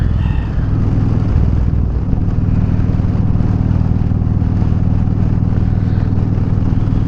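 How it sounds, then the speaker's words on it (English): Motorcycle engine idling steadily in cool weather, a loud, continuous low rumble that stays constant and close throughout with no other sounds. "This cool weather really makes the bike run good."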